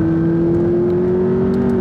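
An Abarth 695 Biposto with a non-standard exhaust system holds a steady droning engine note at the Gumball 3000 rally, a loud, even hum that sustains without a clear rev change.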